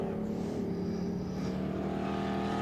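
A Ford Escort racing car at a Group A and C tribute race session at Winton drives past on the circuit, a steady engine drone at moderate distance, fairly faint and even throughout.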